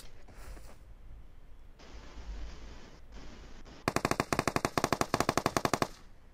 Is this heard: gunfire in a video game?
yes